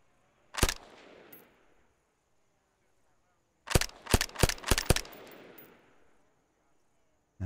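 Gunshots ring out in Arma 3 Antistasi Ultimate: a single loud crack with a rolling echo, then after a pause a quick burst of five or six sharp shots trailing off into a long reverberant tail.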